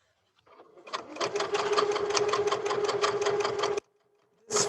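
A sewing machine whirs up and stitches a hem casing on a girl's dress, a close, steady mechanical chatter lasting a few seconds before stopping briefly and then starting again.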